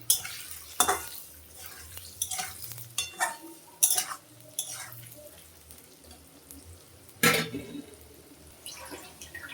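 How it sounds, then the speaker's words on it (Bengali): Gobindobhog rice, washed and dried, frying and being stirred in a pan with potatoes, giving intermittent scraping and clattering strokes over a soft sizzle, fairly quiet and close, with no talking. "চালটা একটু ভাজা ভাজা হয়েছে"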